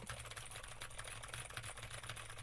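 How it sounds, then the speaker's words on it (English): Rapid clicking keystrokes from a keyboard fitted with Gateron Blue switches, picked up steadily by a streaming microphone, a dense continuous patter at moderate level with no voice. "Now I am typing on a keyboard with Gatoron blue switches"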